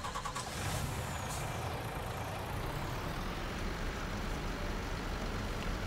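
A truck in Landwirtschafts-Simulator 19 rumbles with a steady, droning engine that holds at constant loudness the whole time, with a brief higher whine early on.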